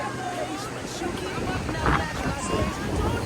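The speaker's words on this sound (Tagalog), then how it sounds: "Waves." Waves wash in at Station 3 beach on Boracay during the rainy habagat season, a rolling surf under gusty wind and distant crowd babble, with one louder surge midway.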